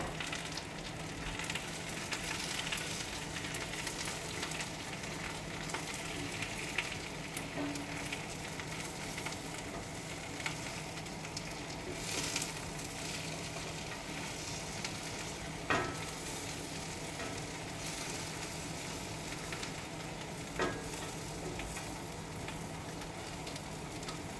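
Mushrooms browning in a pan make a continuous soft sizzle, with occasional scraping clicks from stirring at intervals, heard close and fairly quiet, with no talking.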